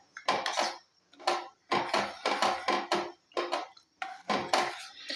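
Hair oil ingredients being stirred in a heavy steel pot: loud, repeated metallic scraping strokes in a steady rhythm, with brief pauses between the bursts, close up and alone.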